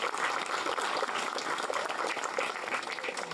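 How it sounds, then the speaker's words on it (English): Dense, continuous clapping from a crowd at the grand opening of the Stone Barn Nature Center, a steady wash of applause at moderate volume throughout. "Give yourselves a big round of applause."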